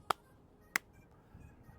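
Two sharp, isolated claps about two-thirds of a second apart, crisp and fairly close in a quiet room, followed by faint low rustling.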